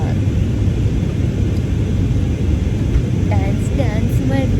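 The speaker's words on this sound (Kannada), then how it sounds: "ಸೊ ಲ್ಯಾಂಡ್ ಆಗ್ತಾ ಇದೆ ಈಗ." An airplane cabin fills with a loud, steady engine roar and broad rushing noise as the plane comes in to land, with faint voices drifting in near the end.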